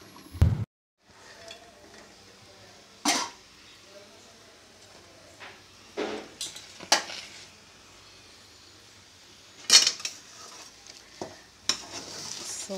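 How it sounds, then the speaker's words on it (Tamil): A metal lid is set over a pot of cooking bansi and fine sooji rava upma, heard as a few sharp, separate metallic clanks and taps over an otherwise quiet kitchen background. "வேகட்டும், மூடி வச்சிடலாம்"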